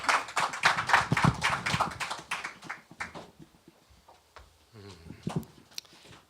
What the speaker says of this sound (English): Let's give a round of applause for Brian McGivern.